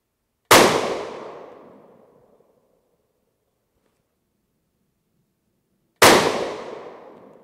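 Two loud, sharp .223 Remington rifle shots firing 40gr V-Max bullets, spaced about five seconds apart, each cracking close by and trailing off in a long echoing decay, with silence between.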